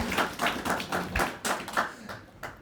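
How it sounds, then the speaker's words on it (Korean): Short scattered applause from a small seminar audience before a student talk on diffusion models, a couple of seconds of soft, close clapping fading out. "박수."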